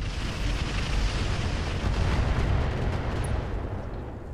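Sustained weapons fire aimed at a turret during a battle in the mech game Roguetech, a dense, continuous rumble of booms and blasts that stays loud throughout without letting up.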